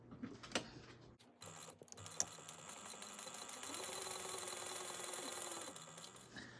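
A sewing machine stitches a seam on a vinyl tote bag, starting with a few soft clicks and then settling into a quiet, steady mechanical whir close by.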